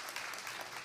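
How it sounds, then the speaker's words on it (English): Brief, soft clapping from mourners at a funeral service, a steady patter lasting under a second. "Once again, let's give them a clap."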